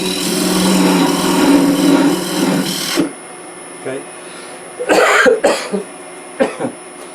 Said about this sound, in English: You wouldn't be coughing now if we had a face mask on.